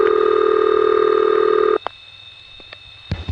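Steady loud N3 carrier telephone trunk tone on a 1973 New York City routing, a sustained multi-tone hum that cuts off abruptly partway through, leaving faint line noise with a few scattered clicks and pops.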